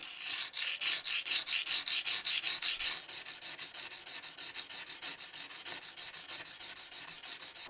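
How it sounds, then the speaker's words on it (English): A piece of flint is rubbed back and forth on oiled 80-grit sandpaper in fast, even strokes, giving a close, steady rhythmic scratching with no talking. "So you've got a piece of 80 grit sandpaper here with a bit of oil on it."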